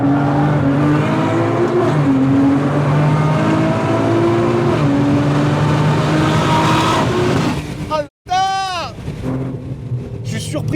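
A 700 hp Nissan GT-R driving hard on a race track, engine droning loud and close with rising and falling revs under in-car talk, a brief cut near the end followed by whooshing sweeps.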